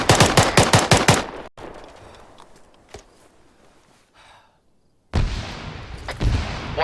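Gunfire in a military fire-team training video game: rapid bursts of loud shots at the start, a quieter lull with a few isolated cracks, then heavy firing returns near the end.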